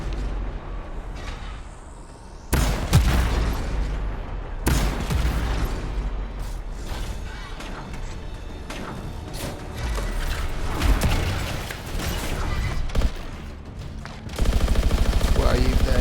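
Heavy weapon fire from a big gun in the Anthem video game, with dense, sustained bursts and mechanical clatter over a busy battle soundscape, loud throughout.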